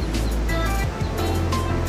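Sea waves surging and crashing against the shore at a village under storm conditions, a steady loud roar of surf filling the whole stretch, with a low rumble beneath.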